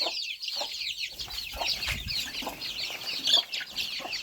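Several chickens cluck and chatter continuously at close range in a yard, with soft peeps from ducklings mixed in.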